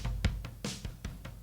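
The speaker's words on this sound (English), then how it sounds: "There's this which is a little bit of crunch, it's very distorted." Heavily distorted programmed drums play a choppy pattern of crunchy, gritty hits with harsh noisy bursts over a thick low thump, with no voices.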